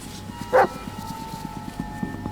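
A dog in the Blair Witch video game lets out a single short bark near the start. Afterwards only a low, steady rumbling background remains, with no talking.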